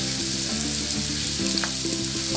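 Chopped shallots sauté in a pan with a dense, steady sizzle and faint stirring, close and continuous with no voices.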